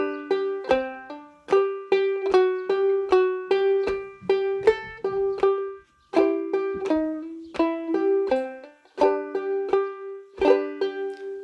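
Clawhammer ukulele plays the intro of the folk song "Bury Me Beneath the Willow" with a band, in steady bright plucked phrases with a strummed rhythm, close and loud, a short pause near the middle before the pattern resumes.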